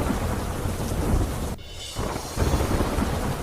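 Heavy rain pouring with a deep roll of thunder, a loud, continuous wash of sound that briefly drops away mid-clip before the downpour and rumble surge back in.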